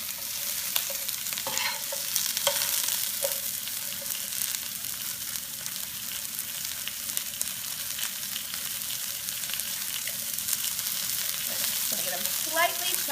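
Fajita chicken sizzles and fries in a pan over medium-high heat, a steady crackling hiss with occasional stirring clicks and scrapes, close and moderately loud, no talking.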